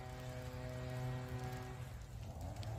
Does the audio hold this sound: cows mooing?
no